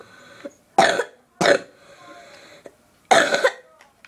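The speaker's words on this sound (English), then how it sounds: "Sorry about my cough, guys." Three harsh, close coughs spaced a second or two apart, with small throat noises in between and otherwise quiet.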